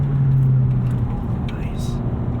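A 2017 Honda Civic Si's engine hums from inside the cabin as revs hang between shifts, a low steady drone with a faint tone easing downward.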